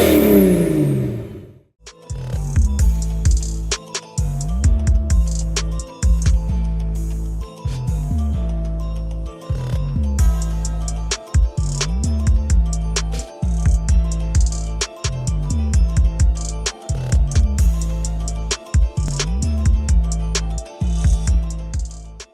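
A tractor engine revs loudly and close, climbing and dropping in a repeated, even cycle of pulls with brief dips between them, while pulling the winch bumper off a 1990 Ford F350 crew cab truck.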